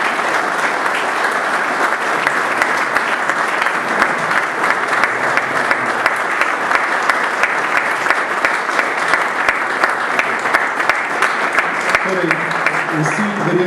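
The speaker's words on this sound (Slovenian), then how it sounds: "Gregor, prosim, en aplavz za Gregorja Čušina." A live audience applauds steadily for Gregor Čušin, a dense, sustained clapping that fills the room from start to finish without letting up.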